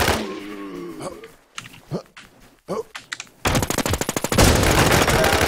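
Video game gunfire bursts out mid-clip as a rapid automatic rattle that turns into dense, continuous loud shooting, following stretches of talk over a quieter game background.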